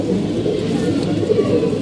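Domestic pigeons kept in a loft coo together in a dense, steady low murmur that runs throughout, close by with no talking.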